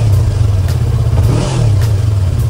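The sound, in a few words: Yamaha YZF-R25 motorcycle idling and revving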